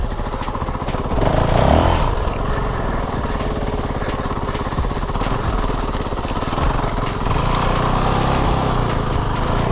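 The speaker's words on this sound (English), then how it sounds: "This thing definitely likes to idle through here." Honda CRF450L dual-sport motorcycle idling along a muddy trail, a close, steady engine putter with a brief swell in revs early on, continuing without talk.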